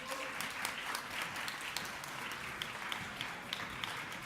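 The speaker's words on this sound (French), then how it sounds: "Sous vos applaudissements, évidemment." Audience applause at a student political book prize event, a fairly faint, even patter of many hands clapping with scattered sharper claps, no talking over it.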